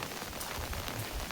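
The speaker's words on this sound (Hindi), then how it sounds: "कंटिन्यू वर्षा" Heavy, continuous rain pours in a dense, steady hiss with no pauses, loud and close, and no voices.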